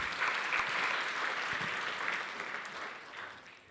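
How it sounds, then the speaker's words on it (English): A gala dinner audience at a CCMA awards evening breaks into sustained applause, a dense wash of clapping hands that holds steady and begins to taper toward the end. "Can we have another big round of applause?"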